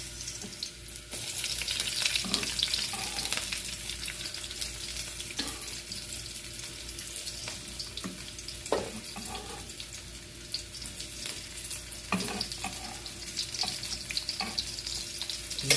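Onion sizzles steadily in a pan after browned garlic, a continuous crackle with occasional knocks and scrapes of stirring, fairly close and moderately quiet, with no talking.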